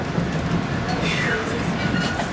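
A train on the Reading and Northern Railroad near Nesquehoning Junction rumbles along steadily, a constant low roar with faint rattling, heard from on board.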